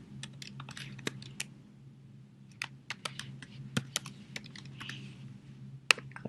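Login details typed on a computer keyboard in a quick, uneven run of close, crisp key taps over steady room hum, with no speech.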